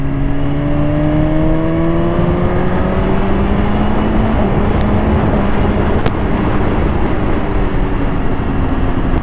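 A BMW S1000RR Pro M Sport sportbike engine rising through the revs on a ride, a loud, continuous high-pitched drone with climbing harmonics steadily building under heavy wind rush, no one speaking.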